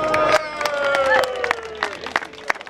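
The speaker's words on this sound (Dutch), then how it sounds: "Dames en heren, applaus voor Wilco." Crowd at a summer race event in Almkerk giving scattered claps and cheers for a finisher, mixed with loud background music and chatter, with sharp individual claps standing out over the din.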